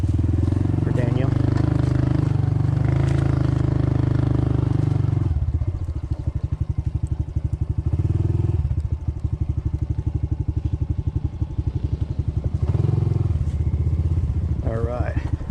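A Honda CT125 motorcycle on a dirt trail putters close by with rapid, pulsing low engine beats that swell slightly midway. People talk over the engine throughout.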